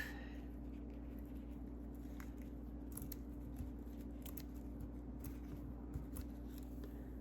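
Scissors trim a paper snippet strip for a shabby vintage journal, a run of small crisp snips scattered irregularly, close and quiet over a steady background hum.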